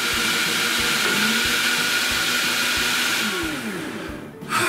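A blender whirs loudly and steadily for several seconds blending a Mountain Dew cream freeze drink, with a churning, rhythmic grind, then winds down near the end.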